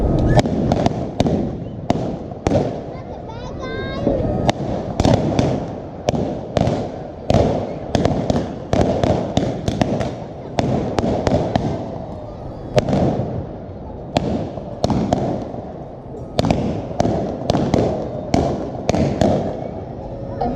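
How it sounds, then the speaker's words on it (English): Rapid sharp blank gunshots from a staged Old West shootout reenactment crack out in irregular bursts, loud and close, one after another over a steady rumbling background. "Amid a hail of gunfire, Bill Dalton and the Knight brothers"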